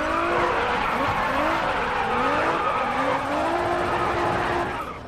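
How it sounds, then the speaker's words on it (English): Tires screech and squeal in long, wavering howls as a car drifts sideways in Grid Autosport, with the engine droning underneath. The skid rises and falls several times, loud and close, then eases off at the end. "That's a juicy drift."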